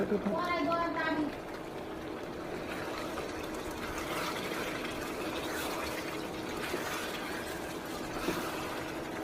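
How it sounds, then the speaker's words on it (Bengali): Broth is poured into a pot of beef and papaya curry, a short liquid splash and trickle at the start followed by a low simmering wash, fairly faint, with someone speaking throughout. "ঝোলটা দিয়ে দিলাম"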